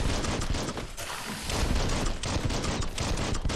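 Dense bursts of rapid gunfire from the video game Biomutant, loud and continuous, with blasts and mechanical clatter layered together and no pauses.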